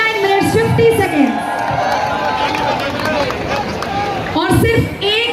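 Crowd cheering and applause at a half marathon prize ceremony in Narnaul, a loud broadband wash of noise that runs throughout, under amplified announcer speech at the start and end.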